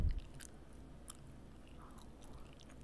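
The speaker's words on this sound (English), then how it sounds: "'Cause I'm smacking?" Gum chewed with wet smacking mouth sounds, close and fairly quiet, a few sharper smacks standing out over a soft continuous chewing texture.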